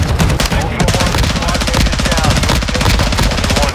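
Rapid automatic gunfire fires at enemies in a video game, loud sustained bursts in a fast rhythmic stream with no pauses.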